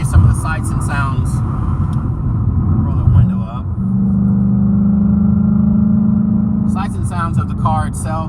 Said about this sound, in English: Sounds of the car itself, and you know, it's really amazing that this is, I want to remind you, this is factory exhaust.